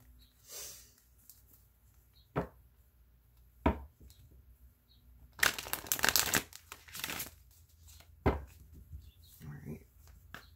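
Tarot cards riffle and slap together in a few bursts, with a longer shuffle in the middle and quiet rustling between, recorded up close.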